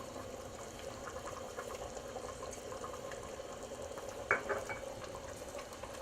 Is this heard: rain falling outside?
no